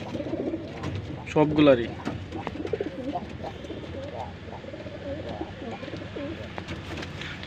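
Pigeons with colds and swollen eyes coo in low, rolling calls, with one louder burst early on, while someone talks over them nearby.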